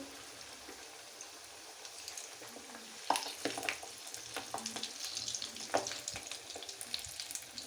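Chana dal patties frying in moderately hot oil on low heat, a soft steady sizzle with occasional sharper crackles and pops, close and without talk.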